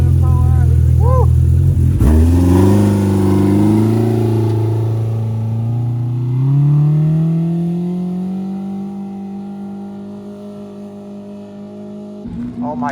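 A Polaris RZR Pro R side-by-side engine revs hard on an ATV trail, a loud rising then sustained roar that eases off before surging again near the end, with excited voices over it.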